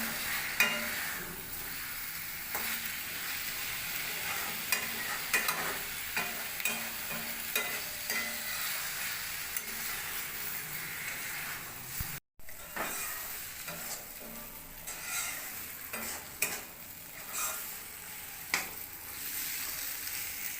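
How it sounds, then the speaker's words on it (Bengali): Potatoes fry with spices in oil in a pan, a continuous soft sizzle broken by repeated scraping and clinking stirs of a spoon, with no voices. "আলুটাকে মশলার সাথে ভালো করে ভেজে নিয়েছি"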